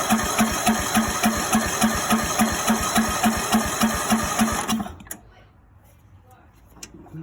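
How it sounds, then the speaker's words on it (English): Greenfield E2000 ride-on mower with a 17HP Intek engine cranking over without starting, a fast, steady mechanical chug for about five seconds before cutting off to near silence. "Give her another crank,"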